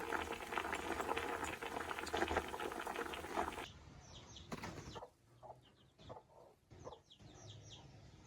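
Fish dish simmering in a covered pot, a busy crackling bubble that is loud at first, then turns quieter and patchy with scattered pops and clicks.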